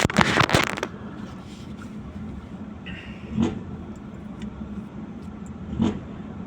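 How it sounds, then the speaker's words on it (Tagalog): Steady hum of heavy road traffic at the Mandaluyong crossing, with a loud close rumble of passing vehicles at the start and two more vehicles swelling past later, all without talk. "Grabe ang traffic, guys, yan, no. Yan ang traffic ngayon."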